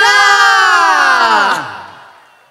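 An audience at an alumni night festival cheers and whoops for Rahman Mega, a loud, rising crowd roar that swells and then falls away toward the end.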